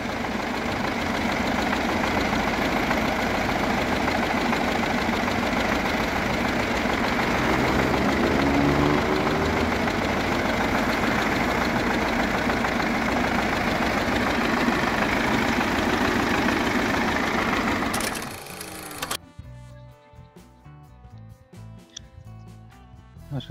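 A tractor engine idles loud and close with a steady, rough low rumble, then drops away near the end into quieter, patchier sounds.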